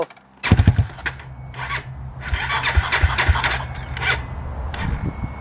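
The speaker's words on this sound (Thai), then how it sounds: "สำหรับเครื่องตัวนี้นะ มาฟังเสียงดูว่าจะ เงียบหรือว่าเบาขึ้นเยอะหรือเปล่" A Honda Sonic motorcycle with a 79 piston kit and an X-max exhaust starts with a few loud popping cranks, then revs up and settles into a throaty, uneven idle close by.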